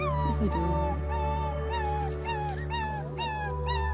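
Newborn puppies whimper and whine beside their dead mother dog. The thin, wavering cries are continuous and overlapping, close but soft, and there is no talking.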